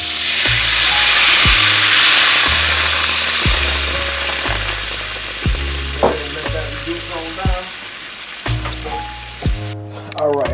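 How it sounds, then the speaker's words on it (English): About 6 ounces of red wine hit a hot pan after ribeye steak, giving a loud, steady sizzle that slowly fades, with stirring scrapes and clunks of a utensil breaking through toward the end. "Gonna deglaze the pan. Got about 6 ounces"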